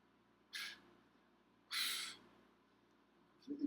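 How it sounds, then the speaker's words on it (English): Two sharp breaths drawn through the nose, the second louder and longer, in a quiet room, followed by a faint brief sound at the end. "I'm breathing through the nose like Bruce Lee."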